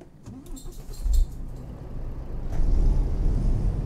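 A Volvo FH16 truck engine cranks and starts in American Truck Simulator, a brief whirring crank followed by a deepening diesel rumble that swells and settles into a loud, close idle.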